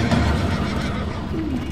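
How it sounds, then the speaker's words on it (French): Sleipnir, the mythical eight-legged horse, gives a loud, full neigh that rises and wavers for nearly two seconds, close and alone. "C'est donc avec un enthousiasme certain que je montais sur le cheval à 8 pattes"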